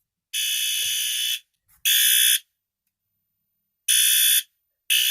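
A fire alarm set off by a Silent Knight PS-DATK pull station blares in loud, harsh buzzing blasts, cutting off and restarting in an uneven pattern with silence between bursts.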